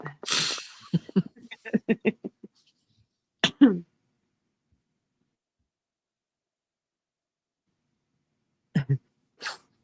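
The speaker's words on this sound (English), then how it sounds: "I don't mean to be sniffing while I'm on panel, but I think I've come back with a slight cold." A person with a slight cold makes a cluster of short nasal sniffs close to the microphone, followed by a long silence and then two more quick sniffs.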